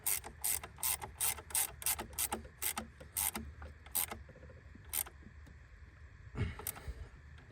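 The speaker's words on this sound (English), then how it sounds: "Never get it right on the ratchet around the first try" A ratchet tightens a bolt on a farm truck in quick bursts of sharp clicking strokes, close and crisp, pausing now and then, followed by a few slower clicks and a short clank near the end.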